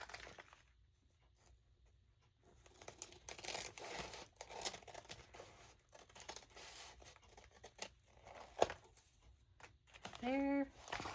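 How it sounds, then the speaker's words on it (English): Scissors snip and slice through paper amid crinkling and rustling, with a few sharp cuts and a brief voice near the end. "Get up the trusty scissors."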